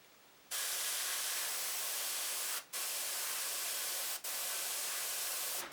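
An airbrush spraying paint through a stencil, giving a steady, loud hiss that stops briefly twice before resuming, with nothing else heard.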